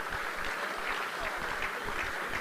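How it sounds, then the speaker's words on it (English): Continuous, fairly distant applause from a crowd at a football club guernsey presentation as players leave the stage, steady and even throughout without talk on top. "Please keep the applause going as they leave the stage."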